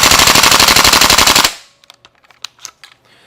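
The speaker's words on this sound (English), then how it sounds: "we're going to just dry fire this" KWA LM4C gas blowback airsoft rifle dry firing in a rapid full-auto burst of sharp mechanical clacks for about a second and a half, then a few faint clicks and handling noises.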